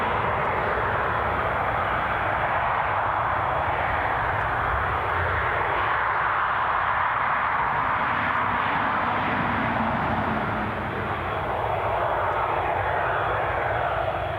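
A departing airliner at Newcastle International Airport gives a loud, steady jet engine roar that holds at close range for the whole stretch and eases only slightly near the end.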